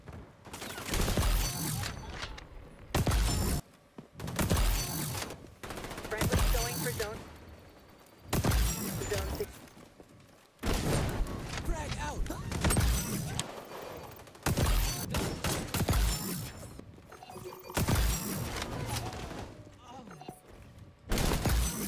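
Sniper rifle fire in the shooter game XDefiant: about nine sharp, heavy single shots spaced a couple of seconds apart, each followed by a bolt or reload clatter, with game ambience and a voice talking in between.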